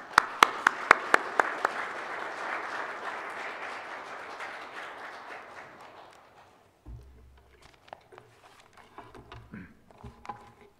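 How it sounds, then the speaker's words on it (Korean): A church congregation at a Thanksgiving worship service claps to welcome the pastor, a few sharp individual claps leading into steady, moderately loud applause that fades out after about six seconds, followed by quiet room sounds and light movement. "우리 목사님 나오실 때 박수로 한번 환영하며"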